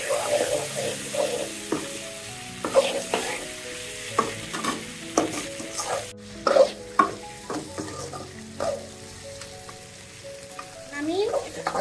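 A fish head and potatoes fry in cooked-down spice paste for a doňpeyaja, sizzling steadily under repeated scrapes and clatters of a spoon stirring around the pan, close up and moderately loud.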